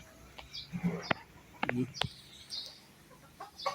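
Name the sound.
chickens clucking while being fed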